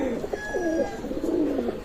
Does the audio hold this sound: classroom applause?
no